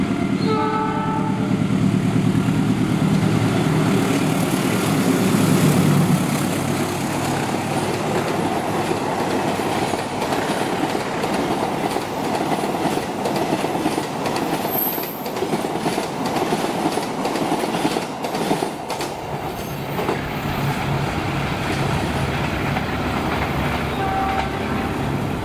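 The Argo Lawu passenger train passing, with a long sustained rumble of rail cars and clattering wheels, a horn blast and some wheel squeal, loud and continuous throughout.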